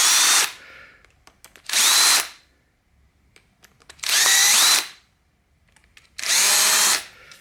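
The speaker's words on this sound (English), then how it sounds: "Now we're faced with 4 screws, which we're just going to whiz out." An impact driver whizzes out screws in four separate bursts, each about half a second to a second long, loud and close, with brief quiet gaps and small clicks of handling between them.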